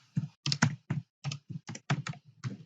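Keys clatter on a computer keyboard as a value is entered into a CAD program, about a dozen close, crisp keystrokes in an irregular quick rhythm with no speech.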